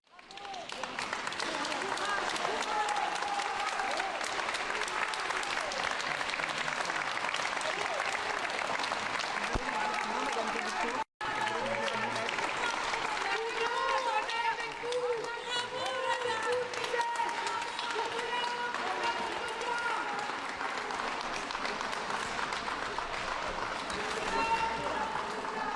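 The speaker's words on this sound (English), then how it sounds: "she's greeted by applause, by cheering" A crowd applauding and cheering outside a courtroom: sustained, dense clapping that is loud and unbroken, with voices mixed in, and a single brief drop-out partway through.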